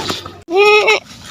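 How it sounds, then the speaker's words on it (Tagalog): A goat gives a single loud, close bleat lasting about half a second. A short wavering cry stands out against quiet outdoor background noise. "Ayan, may kambing oh."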